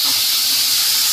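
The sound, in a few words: chopped tomatoes added to hot pan for baigan bharta, sizzling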